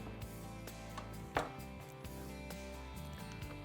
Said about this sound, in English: we're going to take the fillet and cut it into a more manageable size piece